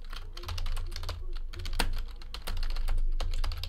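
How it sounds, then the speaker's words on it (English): Rapid, continuous clatter of keys on a computer keyboard, irregular bursts of keystrokes close up over a steady low hum, with no voice. "Let's get the hits typed in."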